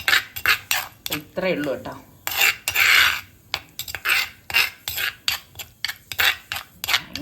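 Food mixed with coconut oil in a dish, a spoon scraping and clattering against it in quick, steady, close strokes, with a brief voice partway through.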